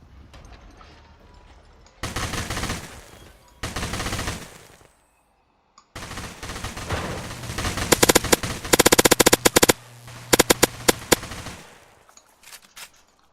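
Bursts of rapid automatic gunfire from a video game, loud and crackling, alternating with brief pauses, then a long dense volley with sharp single shots.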